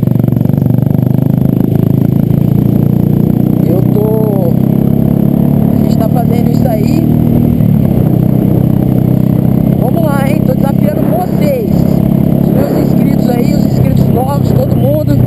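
A Honda Pop 110 motorcycle rides along with a steady, loud engine drone and rushing wind noise throughout, a few small rises and dips in pitch as it shifts. Someone talks over the engine.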